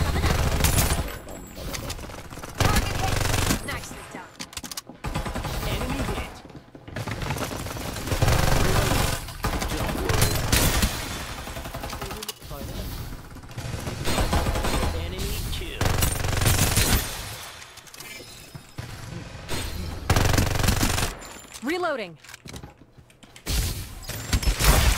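Rapid gunfire from the video game Farlight 84 fills a dense battle scene, with bursts of automatic fire and mechanical clatter running continuously at steady loudness, occasional voices mixed in.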